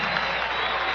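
Dense crowd ovation at a Lakers preseason basketball game against Denver in Hawaii, a steady roar of clapping and cheering filling the arena with no pauses, loud and close.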